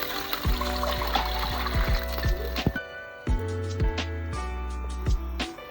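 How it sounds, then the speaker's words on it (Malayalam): Water is poured into a cooking pot for chicken biryani, twice the measure of the rice, making a close, loud gushing pour broken into several short bursts with clinks and sloshes and brief pauses between them. "പിന്നെ ഇതിലേക്ക് വെള്ളം ഒഴിക്കുക."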